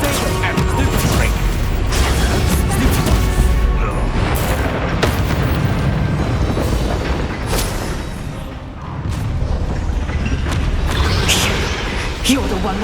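Bombarda spell explosions boom and burst repeatedly in the Hogwarts Legacy video game, loud and dense throughout, layered over a rumbling battle soundscape with a voice briefly heard.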